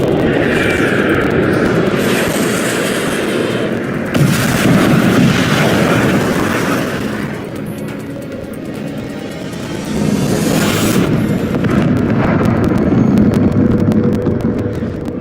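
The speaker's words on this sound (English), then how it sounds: "All missiles were shot out of the sky" Missiles being shot down over an Ace Combat 7 battle: a dense, loud roar of jet engines and rumbling explosions, swelling and easing in waves with heavy low booms, and no talk.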